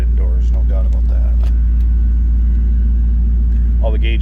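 A 1999 Pontiac Firebird Trans Am 30th Anniversary V8 idling steadily after a cold start, a deep constant rumble with a faint whine, while a person talks over it in short bursts.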